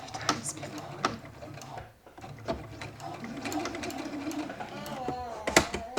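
A sewing machine stitches a drop cloth, slowing at a corner, with a steady mechanical whir and rattling needle clatter, brief pauses and a few sharp clicks, while a voice talks over it at times.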